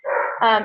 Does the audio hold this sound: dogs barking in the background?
yes